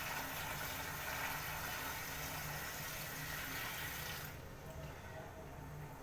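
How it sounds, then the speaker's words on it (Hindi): Water pours steadily into a pressure-cooker pot of washed lentils and beef for haleem in a home kitchen. It makes a continuous rushing, splashing stream that stops abruptly near the end, leaving a quieter background. "ऑलमोस्ट 4 गिलास पानी।"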